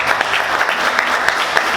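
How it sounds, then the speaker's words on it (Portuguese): A church congregation applauds steadily, a dense wash of many hands clapping close by, with no words spoken. "Vamos aplaudir Jesus."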